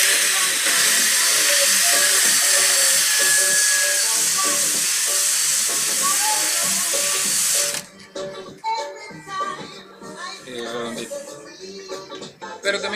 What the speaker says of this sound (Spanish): Le damos una lijadita.